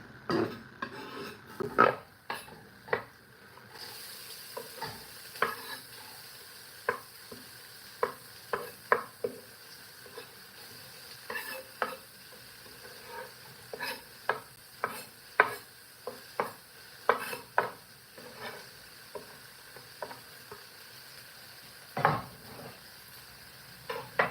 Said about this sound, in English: now that the oil is hot, let's go ahead and add the garlic and onion